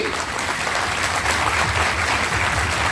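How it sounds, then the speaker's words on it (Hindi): Audience applause at a Jai Hind Ek Fauji Aesa Bhi culmination event, a dense, steady wash of clapping filling the whole stretch at a loud, even level with no talk over it. "जोर से ताली बजाइए,"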